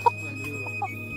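Free-range rooster on a Vietnamese farm giving two short clucks, near and moderately loud, over a steady low background hum with no talking.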